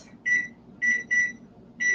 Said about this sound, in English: Set my timer so I don't forget.